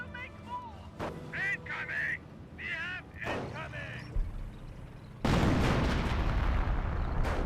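Officer artillery barrage in Company of Heroes, a World War II strategy game: a loud burst of sustained rumbling blasts erupts near the end, following a stretch of game sounds under a caster's talk.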